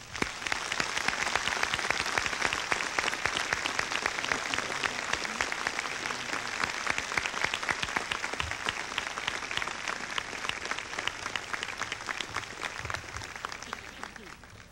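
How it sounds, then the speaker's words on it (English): A church congregation at a bishop's installation Mass gives a long round of applause, a steady, moderately distant patter of many hands filling the space and fading slightly near the end. "with a round of applause."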